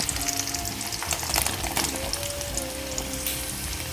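Sliced onions stirred and frying in hot oil for a Kerala-style pork curry, a steady close sizzle with soft scraping stirs throughout, no voices.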